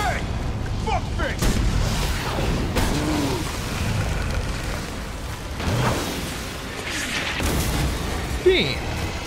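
Gunfire from Resident Evil 3 in Raccoon City, a few heavy booming shots scattered across the stretch amid game noise and ambience, with a voice talking now and then.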